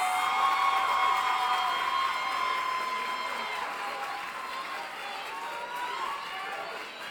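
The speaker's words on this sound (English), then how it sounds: "Let's give them all a big round of applause" An audience at a college queens competition applauds and cheers, a dense wash of clapping with whoops that gradually eases off, heard from a distance in a large room.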